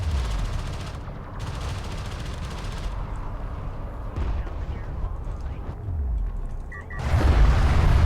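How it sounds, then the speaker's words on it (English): A missile ship barrage in a strategy video game: dense, loud volleys of rapid explosive fire and booming blasts that roll on steadily and swell into a heavier burst near the end. "good missile ship barrage though"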